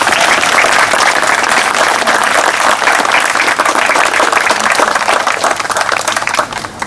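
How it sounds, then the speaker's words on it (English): A large audience at a rededication event gives warm, sustained applause, with dense steady clapping that holds for several seconds and then thins slightly at the end. "I wanted to have everyone give a warm applause to Bill Collins for putting this together."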